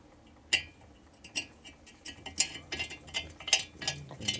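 A 7/16 reamer turns in a rocker arm hole to clear out paint during a 1947 Harley knucklehead rebuild, giving a quiet series of irregular clicks and scraping ticks at close range.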